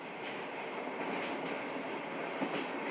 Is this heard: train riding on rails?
yes